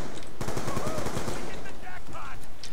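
Rapid AN-94 rifle fire in Black Ops 2 Zombies on the Buried map, a loud sustained burst of closely spaced shots that starts partway in and then gives way to game effects and background noise.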